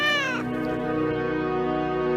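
A cat gives a single loud, close meow at the start, a falling wavering cry that fades into a sustained tonal hum.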